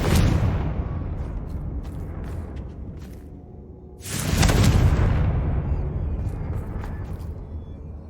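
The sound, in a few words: Confringo spell blast in video game Hogwarts Legacy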